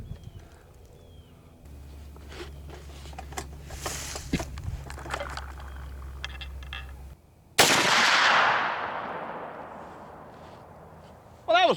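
A 45-70 Government rifle fires a loud shot with a sharp onset and a long decaying roar, loaded with 300 gn Sierra and 350 gn Hornady Interlock bullets with packing material. It is preceded by quieter handling clatter and low hum, and a second blast begins at the end.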